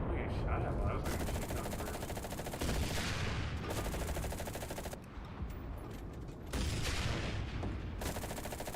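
Sustained rapid gunfire in the World War II shooter Enlisted, dense bursts that stop and restart in blocks, heard under a player talking.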